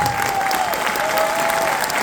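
An audience applauds at a family concert in Marseille: dense, steady clapping throughout, close and loud, with a thin sustained whistle-like tone running beneath it.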